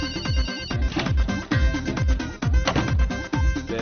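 A song-style phone ringtone plays from a mobile, with a steady beat and repeated melodic phrases ringing continuously for several seconds with no one speaking.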